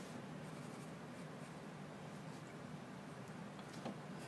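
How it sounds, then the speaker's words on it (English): A pencil sketches lines on paper while drawing a crate-shaped base for a lamp, giving a steady, close, continuous scratchy rasp with no pauses or talk. "what I'm going to do is draw a crate for the base"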